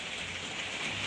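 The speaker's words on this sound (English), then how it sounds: "Rainy day today, as you can hear." Steady rain falling outdoors, a dense, even hiss of drops spread across the whole clip, close and fairly loud with no talk over it.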